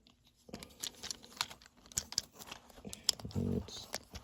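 Plastic parts of a Ratchet Transformers toy snap into place in a quick run of small, close clicks and taps, with a denser burst of handling near the end and no talk.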